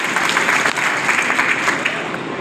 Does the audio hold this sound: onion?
no